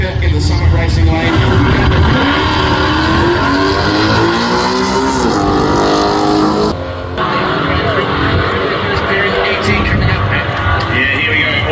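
Drag racing cars roar off the start line at an international dragway, a loud, sustained engine howl with rising revving that cuts briefly near the end before continuing, under a commentator's voice.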